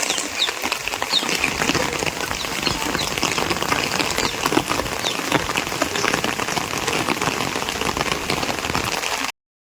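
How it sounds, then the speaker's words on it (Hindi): Heavy monsoon rain pouring down in a rural home setting, a dense, loud, continuous hiss and patter of drops on surfaces filling the whole clip before cutting off abruptly near the end. "और बारिश इतनी तेज़ थी, देख सकते हो आप"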